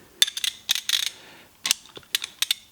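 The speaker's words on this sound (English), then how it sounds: "it has to rotate quite a distance before it gets to the next, before the next ratchet engages" A Halfords Pro ratchet with a socket fitted clicks in short, irregular clusters as it is turned back and forth, crisp and close with quiet gaps between.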